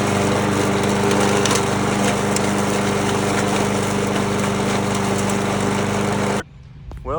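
A vintage 1970s Toro lawnmower fitted with a Briggs and Stratton engine runs loud and steady at close range with a constant droning hum, then cuts off abruptly near the end.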